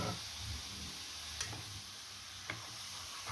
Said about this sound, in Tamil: நல்லா கொஞ்சம் நேரம் அதை நல்லா வதக்கிக்கலாம்